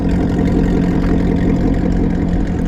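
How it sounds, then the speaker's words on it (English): A loud car engine idles close by with a deep, steady rumble and a slight rise in revs, with no talking over it. "Oh my goodness, that car is loud."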